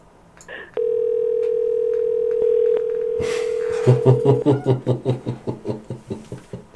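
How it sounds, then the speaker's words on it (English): Telephone dialing a call: a steady dial tone runs for about three seconds, interrupted by a couple of brief clicks, then a noisy burst and a quick series of rhythmic keypad tones, each fading, close and clear with no talk. "I'm dialing him up."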